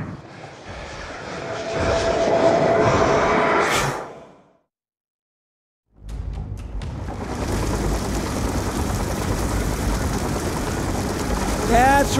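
A drone flying overhead in the Call of Duty: Black Ops II campaign, a loud continuous engine drone that cuts out briefly, then returns with rushing wind and distant rumble.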